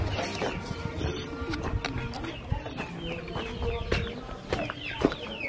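Chickens and turkeys on a ranch in Mexico cluck and call continuously, close by and busy, with scattered bird noises overlapping and faint talk mixed in.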